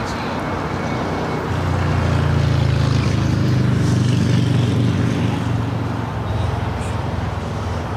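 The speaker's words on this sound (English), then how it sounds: "A 787-9 and Dreamliner would be the next takeoff here on the south side" A Boeing 787-9 Dreamliner takes off from LAX's south side, a loud, steady low jet roar that swells and holds throughout without talk.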